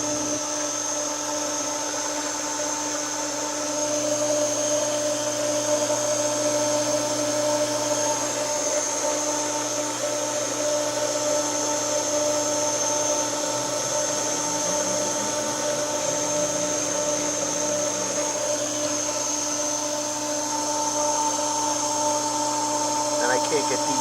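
Pool pump with its incoming water plumbing drawing in air: a constant, loud mechanical hum with steady tonal whine and a faint gurgling hiss underneath, unbroken throughout.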